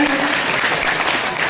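Loud, dense clapping from a crowd at a political gathering in Rajnagar, Khajuraho, a brief, even burst of applause that stays steady throughout.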